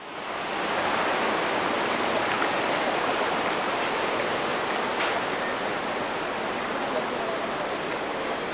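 Powerful rushing water of the Iguazú Falls in Argentina, a loud, steady broadband roar that holds for the full length with no break, with faint higher splashes and spray sounds scattered through it.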